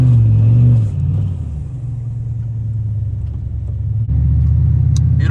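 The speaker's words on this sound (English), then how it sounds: "Beautiful four-wheel drive burnouts." A turbocharged Chevrolet Silverado pickup on summer tires does four-wheel-drive burnouts on a snowy road, its engine a loud, steady low rumble that dips slightly, then swells again near the end.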